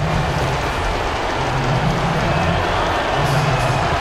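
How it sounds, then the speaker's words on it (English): A packed basketball arena crowd at a Thunder versus Blazers game cheers and roars loudly, a continuous dense wall of noise with rhythmic swells rising and falling. "Listen to this crowd. It sounds like a rock concert in here."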